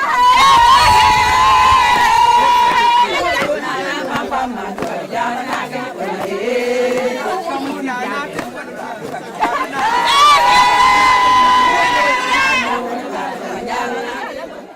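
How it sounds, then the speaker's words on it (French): Loud crowd at a traditional wedding in Beregadou, with sustained high shouts and ululating cries mixed with singing and chatter, several voices calling out over each other. "ce sont des cris, chansons et danses qui annoncent l'ouverture du mariage traditionnel"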